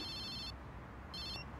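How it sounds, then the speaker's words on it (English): A telephone rings in an anime episode with two electronic trilling bursts separated by a short pause, set over a steady low background hum. "Phone is ringing."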